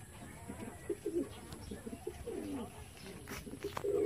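Pigeons coo softly in low, rolling phrases at a backyard loft, several overlapping murmurs spread across the moment over a steady background hiss, with no one talking.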